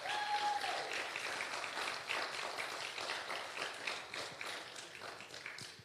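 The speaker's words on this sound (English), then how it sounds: "Let's give a big round of applause for Seneca and" A crowd at a live-streamed event gives a round of applause, steady mixed clapping from many hands heard at a distance, fairly faint and even, slowly thinning toward the end.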